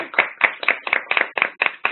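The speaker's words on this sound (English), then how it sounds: "We applaud you all." Clapping from an audience at a student education showcase, heard as about eight sharp, close claps in a steady, fairly quick rhythm, with no talk over them.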